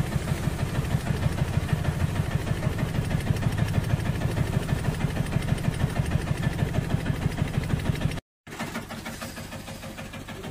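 An auto rickshaw engine idles nearby with a steady, throbbing rhythm of rapid pulses. The sound cuts out briefly near the end, then resumes slightly quieter.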